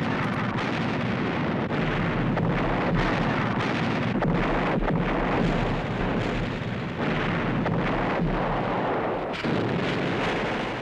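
Artillery firing in a World War II beach landing at the port of Gela, a loud, continuous roar of booming blasts and rumble with no pauses.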